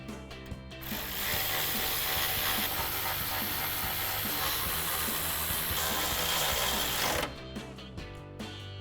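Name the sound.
ratchet with 10mm socket tightening headlight bolts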